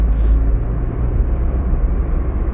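A car drives along a flat countryside farmland road, its steady low engine and road rumble loud and continuous with no talking.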